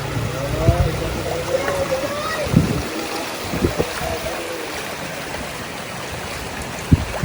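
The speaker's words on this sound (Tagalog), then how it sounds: "Grabe, ang daming baha mga besh." Floodwater rushing steadily through a street in Puerto Princesa during heavy rain, a continuous close wash of flowing water with splashes and knocks, while people talk over it.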